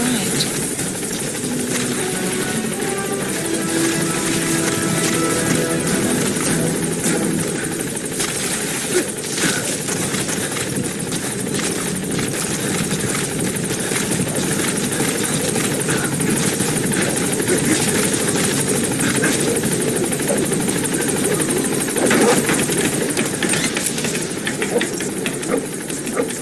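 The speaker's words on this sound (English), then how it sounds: "Support helicopter has arrived." A support helicopter arrives at a landing zone in the Metal Gear Solid 5 video game, its rotor thumping loud and continuous with a steady engine drone throughout, close and unbroken.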